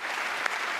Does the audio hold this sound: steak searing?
no